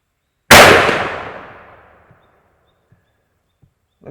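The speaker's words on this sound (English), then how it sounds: "We'll take a shot from each, the plain tip and then the black painted colored one," One loud, close rifle shot fires WWII German 8mm SMKH ammunition, a sharp blast followed by a long rolling decay and a few faint distant knocks.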